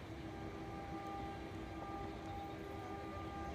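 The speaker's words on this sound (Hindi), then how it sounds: "पहले प्लेटफॉर्म से रौनकपुर एक्सप्रेस आ रही है।" The Ranakpur Express, hauled by a WAP-7 electric locomotive, arrives at the first platform of an Indian railway station, producing a steady, fairly faint rolling rumble of wheels and carriages with a distant tonal whine.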